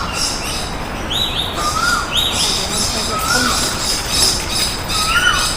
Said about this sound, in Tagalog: maririnig niyo mga huni ng ibon.